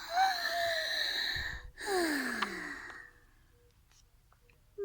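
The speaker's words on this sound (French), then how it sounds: "Elles prennent une longue inspiration." A long, deep, drawn breath with a voiced, sighing tone, heard twice in close succession before trailing off into quiet.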